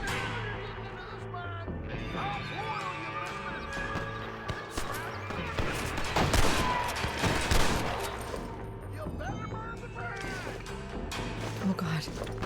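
Red Dead Redemption gunfight with a dense barrage of gunshots and crashing impacts layered over game music, loud throughout with a heavier burst in the middle, while a player talks over it.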